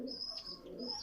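Pigeons coo softly in a brief, faint burst, with a couple of low coos and a thin chirp close by.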